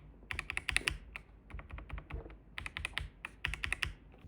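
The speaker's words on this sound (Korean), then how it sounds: "소리 비교를 위해 공기축과 소다축도 하나씩 끼고 소리 차이를 들려드릴게요" Close, crisp clacking of Logitech K98M mechanical keyboard keys with Marble, Soda and Air switches in quick bursts, several fast runs of presses separated by short pauses, no voices.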